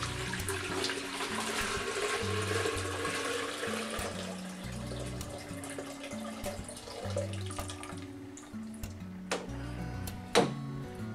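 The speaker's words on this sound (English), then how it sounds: "I'm going to pour out the first portion." Water poured out of a PVC pipe as part of a water purification setup, a steady rushing, splashing flow running for several seconds before thinning into a few trickles and drips.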